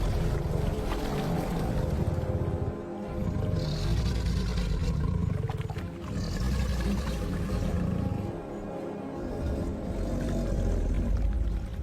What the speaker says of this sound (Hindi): मिलन की उसकी ये पुकार करीब 1 किलोमीटर दूर तक सुनाई देती है।